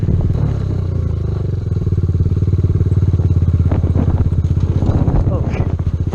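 A Kawasaki Z125 motorcycle rumbles steadily over rough ground, its engine note loud and continuous while the suspension and frame clatter and knock over bumps, with a rider's voice speaking now and then over the noise.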